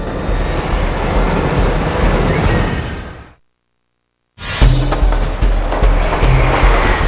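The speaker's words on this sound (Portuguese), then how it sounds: "uma leva de dezenas de trens se dirige para os túneis do metrô." São Paulo metro trains running through tunnels, a loud, close roar and rattle of wheels on track, cut by a second of near silence before the rumbling resumes with clanks and squeals.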